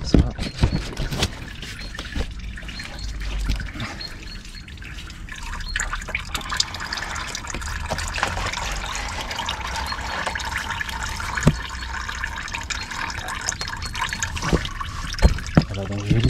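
Engine oil trickles from the drain on an Opel Astra H 1.8 during an oil change, a faint continuous dribble with scattered drips under intermittent French speech in a garage setting.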